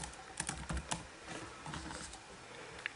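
Light, rapid tapping on an iPhone-style touchscreen keyboard while writing a short note, soft irregular clicks close by with no talk.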